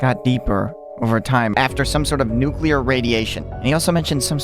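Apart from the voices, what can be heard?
No everyday noise stands out behind the speech.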